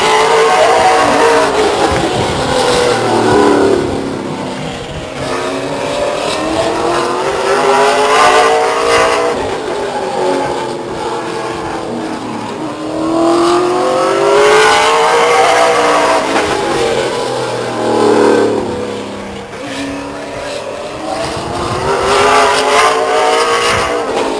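A late model stock race car, the number 77, laps Stockton 99 Speedway. Its loud engine note rises and falls in repeated passes roughly every seven seconds, revving through the turns and down the straights, with no talk.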